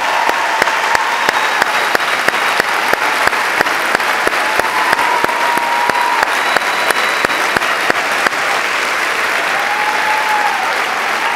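A large audience at a university kickoff event gives sustained, loud applause for employee Wes Maxwell, a dense wash of many hands clapping steadily for over ten seconds with faint background voices.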